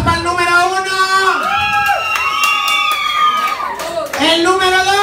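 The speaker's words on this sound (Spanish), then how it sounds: "¡Aplausos para el número uno!" Party guests clap and cheer for contestant number one in a dance contest at a quinceañera held at a seafood restaurant in Irving. Loud shouting voices and cheering ride over lively applause throughout.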